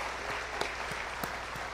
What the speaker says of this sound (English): Let's just have a resounding applause for all the youth in the room.